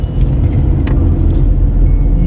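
A car engine hums steadily while driving on a road approaching a small bend, after a shift back into third gear: a loud, low, even drone with road rumble and faint light rattles, and no voices.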